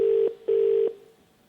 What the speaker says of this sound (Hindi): तो कंप्यूटर महाशय फोन लगाया जाए माधुरी जी को।